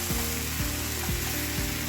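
Mushroom curry with tomato stirred in a pan, four regular scraping strokes of a spoon against the pan over a constant sizzle of frying.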